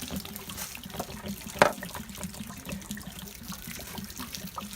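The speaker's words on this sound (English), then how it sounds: "So as our water is draining" Water runs and trickles steadily from an RV water heater tank being drained, a continuous gurgling drain with one brief knock partway through.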